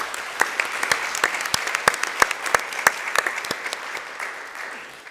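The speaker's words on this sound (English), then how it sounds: "ask everybody to give him a round of applause for all of his service" A room full of people applauds a retiring employee at a community college district board of trustees meeting, the steady, even clapping holding for several seconds before thinning out near the end.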